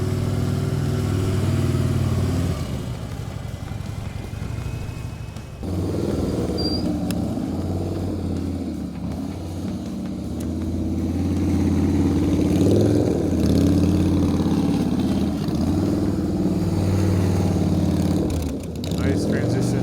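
Motorcycle engine at a riding practice, holding a steady mid-range drone through a tight turn with small rises and dips in revs, loud and continuous while a voice talks over it.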